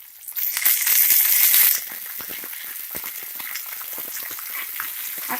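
Fresh coriander leaves fry in a pan for chutney, a loud burst of sizzling as they hit the hot oil, then a steady, softer crackle with faint stirring scrapes.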